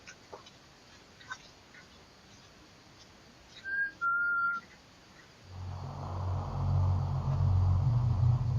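Two short whistled tones ring out clearly, each held briefly, over quiet hiss, followed by a louder, steady low rumble that builds and continues to the end.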